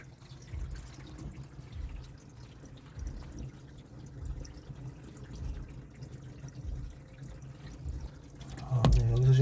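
Water drips into the trunk of a Honda Civic with rear-end collision damage during a leak test, making soft repeated low patters that end in one louder splash.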